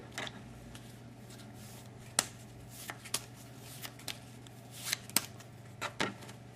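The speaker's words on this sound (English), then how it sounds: "Now, Mr. Hand, I'd like you to shuffle this deck of cards for me." A deck of playing cards is shuffled by hand during a card trick, giving a quiet run of scattered riffles and sharp snaps and taps of varying strength against a faint steady hum.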